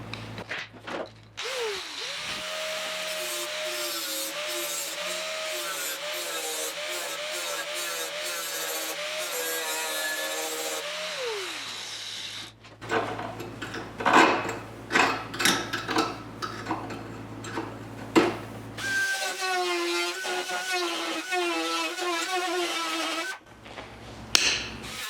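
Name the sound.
grinding a 1972 Triumph GT6 door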